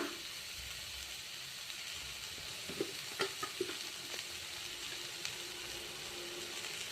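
Cauliflower with turmeric powder sizzling steadily in a pan for a Kannada-style gobi palya, with a constant frying hiss and a few soft spatula scrapes and taps as it is stirred.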